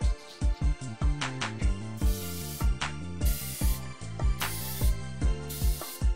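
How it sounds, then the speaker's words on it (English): Repeated short hissing bursts of an olive oil spray nozzle over rhythmic background music with a steady beat. "This is olive oil spray."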